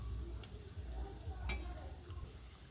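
Small flour-and-sugar sweets deep frying in oil, a soft steady sizzle with faint crackles and an occasional utensil tick, heard fairly close and continuous throughout.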